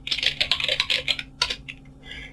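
Rapid keystrokes on a computer keyboard while entering a router login password, a burst of close, crisp clicks in an uneven rhythm that thins out toward the end.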